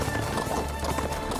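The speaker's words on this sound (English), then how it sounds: "a mounted horse attack animation like that ever in my life" A horse gallops during a mounted attack in Warriors Orochi 4, with fast, close clip-clopping hooves over dense battle noise.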